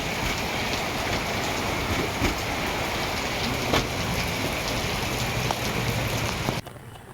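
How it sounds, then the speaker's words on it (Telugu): Heavy rain pouring down in Hyderabad: a dense, constant hiss of falling water with scattered louder drops. It cuts off abruptly near the end. "మొత్తంగా హైదరాబాద్లో వర్షం దంచుకొట్టింది"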